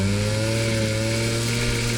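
A Simson moped engine idling and revving with a harsh, buzzing whine like a circular saw, loud and close, steady throughout with no talking over it.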